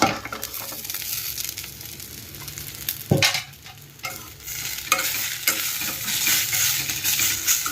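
Tamarind goes into a pan of softened, sizzling ingredients and gets stirred, with a steady frying hiss, scraping of a spoon and a few sharp clinks against the pan, close by and without talk.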